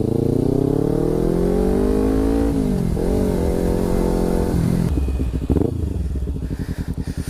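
A 2014 Kawasaki Ninja 300 motorcycle with an aftermarket MGP exhaust revs up and holds a loud, deep exhaust note, drops, revs again, then settles into a burbling, popping idle.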